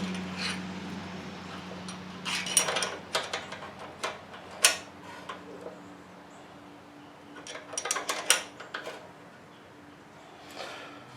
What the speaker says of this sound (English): get your nut tightened back up